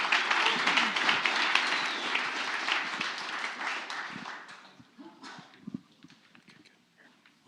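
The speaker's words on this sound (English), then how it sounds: "Give him another round of applause." Audience applause at a startup pitch night, a dense burst of clapping that stays loud for about four seconds, then thins to scattered claps with faint background murmur.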